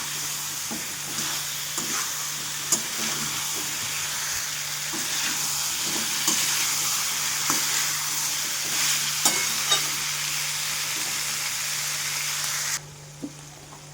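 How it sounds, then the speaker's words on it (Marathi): Moringa drumsticks fry with masala in a pan, a steady close sizzle and hiss running for about thirteen seconds with scattered soft stirring scrapes, then dropping away sharply at the end. "छान परतून घेणार आपण, फ्राय करणार याला."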